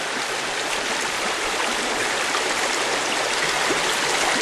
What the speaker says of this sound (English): I am running it through the drop riffle sluice